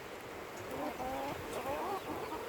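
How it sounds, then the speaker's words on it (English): Chickens clucking on a farm, with a rooster among the flock, a few short bursts of clucking in two brief clusters over a steady outdoor background. "Chickens,"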